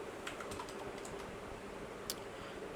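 Keys clack on a computer keyboard as Python code is typed, a run of light, quick clicks at a steady pace with one sharper keystroke near the end, close by and alone.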